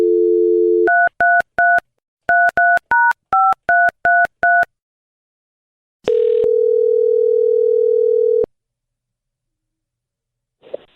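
Telephone keypad tones sound as a number is dialled back, beginning with a short dial tone and then a quick series of sharp beeps. A long steady ringback-like tone follows before silence and a faint click, with no talking.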